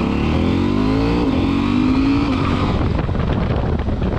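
KTM 790 Adventure motorcycle with a quickshifter accelerating hard on the road, a loud close engine roar climbing in pitch through a gear then continuing under wind rush, with no talk.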